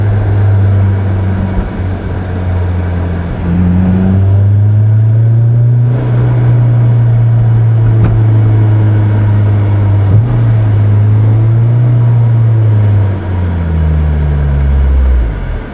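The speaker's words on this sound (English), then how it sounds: "Guess you'll get to hear every possible scenario of the exhaust." A Honda S2000 with a Milltek dual exhaust cruises at highway speed with the top up, a steady low exhaust drone and engine hum holding throughout, pitch shifting slightly with throttle alongside faint road noise.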